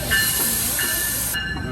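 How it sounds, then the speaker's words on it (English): A train draws near on the track on a cold, foggy day, a loud steady rushing hiss with a faint brief squeal, heard close by and alone. "waiting for the train. One that's actually coming up right now"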